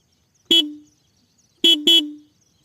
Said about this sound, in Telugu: ఇప్పుడు ఒకసారి నా బండి స్టార్ట్ చేసి హారన్ కొడదాం